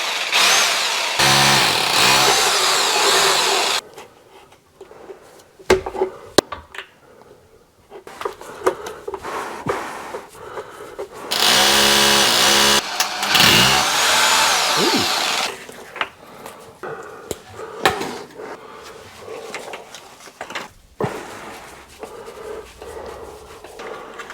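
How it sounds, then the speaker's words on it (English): A power drill runs in loud bursts, grinding into old brickwork, with pauses between passes and clattering handling noises in the gaps. "I'm drilling in the course. And as you can see, this is old brickwork."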